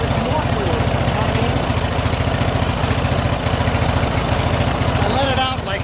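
A Briggs opposed-twin engine runs steadily after a carburetor adjustment, its loud close-up idle pulsing with a rapid even chug while a voice speaks over it.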